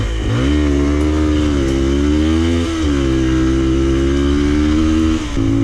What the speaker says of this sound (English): max out the revs